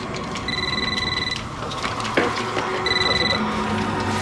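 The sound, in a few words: telephone ringing before answering machine picks up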